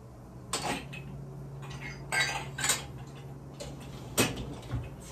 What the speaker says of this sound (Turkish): Kirli makineyi boşaltıyorum.